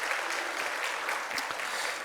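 A congregation at a Sunday afternoon church service gives a short burst of applause, a soft, even patter of many hands with no voices over it.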